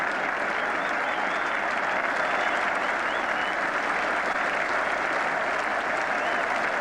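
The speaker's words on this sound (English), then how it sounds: "But the applause is for Geoff Boycott's half-century." Spectators at Lord's applaud a batsman's half-century during a 1981 England versus Australia one-day international, a steady, dense wash of clapping from a large crowd that never lets up.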